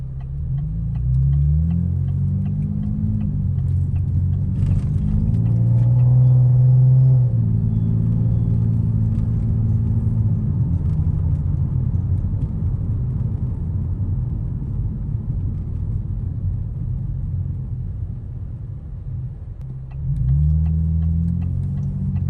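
Engine of a fifth-generation V6 Camaro with its muffler deleted, heard from inside the cabin as it accelerates: a loud, steady low rumble that climbs in pitch over several seconds, then settles into a sustained drone before revving again near the end.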